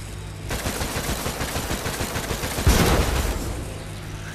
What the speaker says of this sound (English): Wait, let me shoot him from the tower.